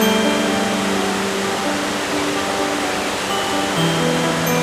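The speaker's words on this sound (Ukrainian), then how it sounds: "Це мальовнича місцина, де вода поміж смарагдовими лісами і каменюками спадає із висоти 7 метрів." A 7-metre waterfall spills between rocks in the emerald forests of the Skole area, Kamianets falls, giving a loud, constant broadband rush that holds steady from start to finish with no talking.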